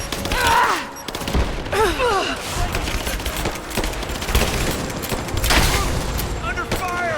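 Rapid automatic gunfire in a firefight in Rise of the Tomb Raider, loud bursts and sustained fusillades with booms, close and continuous, mixed with shouted voices throughout.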